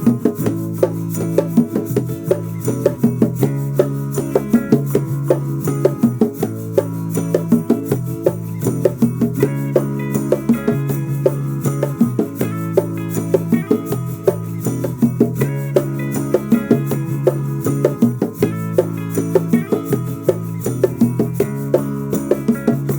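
Bongos played in a steady repeating pattern of sharp high slaps and rounder open tones, a quick four-beat phrase cycling continuously, close and loud with no voices.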